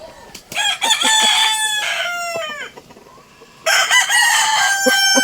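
Backyard Toppy gamefowl roosters, eight months old, crow loudly and close, two long drawn-out calls with clucks between, over faint yard noise.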